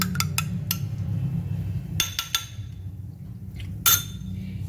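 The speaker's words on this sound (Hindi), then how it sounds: "इसको आपने फेंट लेना है" Spoon clinking against a bowl while yogurt is whisked, a handful of sharp clinks in two short bursts over a steady low hum, close and fairly quiet.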